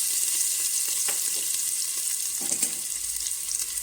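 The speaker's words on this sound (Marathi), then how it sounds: "याच्यामध्ये आता आपण आलं, लसूण आणि ठेचलेली हिरवी मिरची हे सर्व घालून घेऊ।" Ginger, garlic and crushed green chili sizzle steadily in hot ghee in a pan for mutton paya soup, a close, continuous frying hiss with a few soft stirring scrapes.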